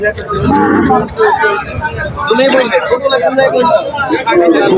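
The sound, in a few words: cow mooing at cattle market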